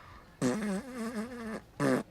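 A voice imitates a fart with a loud, buzzing, wavering blow lasting about a second, then a shorter second burst after a brief pause.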